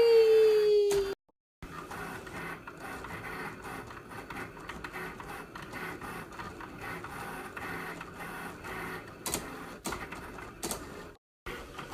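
A Cricut machine cutting washi tape, starting with a short whir, then a steady mechanical buzz and whine as the carriage moves, with brief pauses and clicks along the way.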